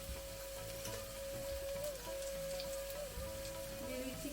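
Ground spices hitting a hot pan of ginger, garlic and onion paste for dhaba-style dal makhani, giving a loud, steady, close sizzle with a faint tonal hum underneath.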